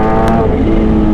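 Kawasaki H2 supercharged motorcycle engine held at high revs on a single throttle blip, a loud, close, steady roar with dense harmonics that stays strong through the whole moment, no talk.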